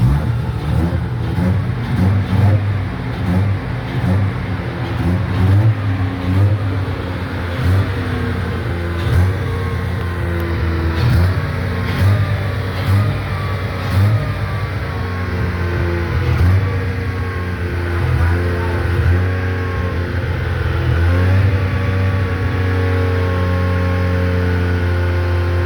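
A 1987 Mazda RX-7 FC Turbo rotary engine running close by, a loud steady idle with rising and falling revs over a long stretch, without talk.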